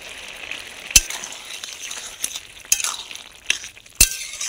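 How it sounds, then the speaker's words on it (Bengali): Spoon stirring coconut and mustard paste in a frying pan, a soft steady sizzle broken by a few sharp clinks of utensil against the pan, close and alone. "নারকেলটা দিয়ে একটু নাড়াচাড়া করার পর দিয়ে দিচ্ছি এতটা পরিমাণে সরষে বাটা।"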